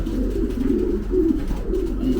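A domestic pigeon coos close by in a soft, repeated rolling pattern of several low throaty calls, over a steady hum of background noise.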